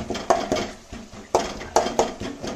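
Dal with red chili being stirred in a pot, a spoon scraping and knocking against the metal in irregular clinks and scrapes, close and fairly clear.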